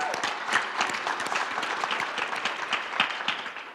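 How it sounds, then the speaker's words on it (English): A conference audience applauds steadily, dense clapping at even loudness for several seconds with no voices over it. "let's give them a round of applause"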